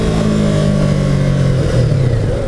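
A 2015 Yamaha R3 sport bike accelerating hard, its engine note rising steadily and loud from up close with no talking.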